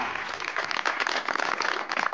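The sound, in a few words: audience applause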